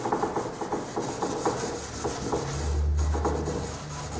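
3M stripping pad rubbing lightly over a wooden kitchen cabinet to dull its shine, repeated rhythmic scuffing strokes with the grain, close and steady, a low hum rising midway, no talk.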